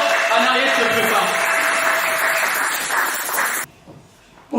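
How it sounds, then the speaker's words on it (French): A crowd applauds as a speaker is called up at a church youth event, sustained loud clapping with voices mixed in, cutting off abruptly near the end. "Sous vos applaudissements, on appelle le frère exaucé."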